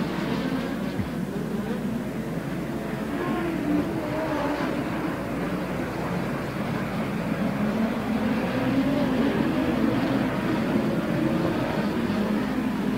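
USAC midget race cars roar around Ventura Raceway in a three-car battle for the lead, a dense, continuous engine drone blending several cars at a distance with no clear passes standing out.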